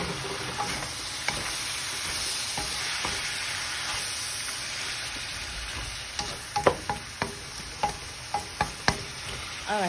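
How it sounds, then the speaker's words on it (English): Vegetables stir-frying with liquid aminos in a hot pan, a continuous close sizzle with a run of sharp spatula scrapes and clicks toward the end. "I'm going to be adding my liquid aminos again. And I'm going to be adding a lot of it because this is a stir fry."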